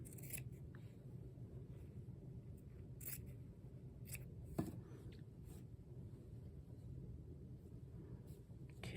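Scissors cutting through fabric on a quilt block, a handful of short, crisp snips spaced unevenly over a low, steady background hum, fairly quiet and close.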